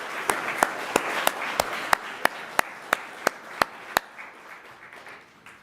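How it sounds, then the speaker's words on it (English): A single person claps steadily and fairly close at a fire department awards ceremony, about a dozen evenly spaced sharp claps over a soft room murmur before stopping abruptly. "Who wants to clap? We'll clap, absolutely"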